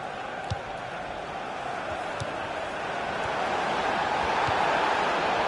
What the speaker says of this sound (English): And the crowd really enjoying it.